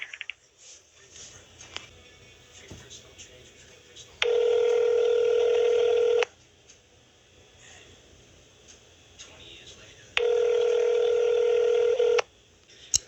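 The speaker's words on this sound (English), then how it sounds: "the phone just rung and then it just hung up" A telephone line gives two long, steady ring tones separated by a pause, then goes quiet as the call drops, with faint background noise between the tones.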